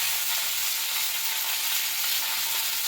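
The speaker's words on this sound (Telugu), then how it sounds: "కరివేపాకు కూడా అందులోనే వేసి కలపాలి." Curry leaves crackle and sizzle in hot oil for a tomato chutney, a dense, even frying hiss that holds steady and close throughout with no voices.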